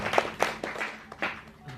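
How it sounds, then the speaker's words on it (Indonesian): Scattered hand claps from a small audience at a Javanese calendar talk in a café, a handful of sharp claps that thin out and fade within two seconds. "Kita ucapkan tepuk tangan malih Pak Trimo."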